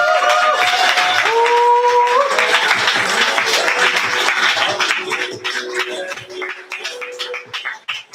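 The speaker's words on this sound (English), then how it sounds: "Clap so Derek gets to the mic." An audience at a December open mic and Yankee Swap poetry slam applauds as a performer heads to the stage, with dense, steady clapping over tonal background music that thins toward the end.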